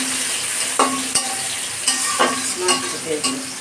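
Onions frying in a pan give a steady close sizzle, broken by several sharp scrapes and knocks as they are stirred with a utensil, with no talking.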